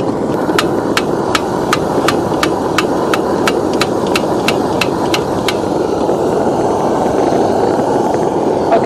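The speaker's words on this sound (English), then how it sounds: "The next thing we need to do at this stage then is to pump the tank up, and the recommended pressure is 25 psi." Hand pump charging the pressure tank of a Sheen X-300 flame gun: about a dozen regular, sharp clicking strokes at a steady rhythm, then they stop, all over a loud, constant broadband rush of outdoor noise.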